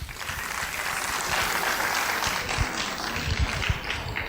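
An audience at a Miss N'Zassa beauty pageant finale breaks into dense, continuous applause, a broad wash of many overlapping claps filling the room at steady, moderate loudness throughout.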